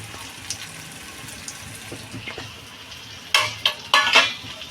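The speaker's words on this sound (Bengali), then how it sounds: "এই সিদ্ধ ডিমটা আমি ভাজা করব" Soft sizzling in a pan with light scraping, then several sharp, louder crackling bursts near the end as halved boiled eggs hit the oil.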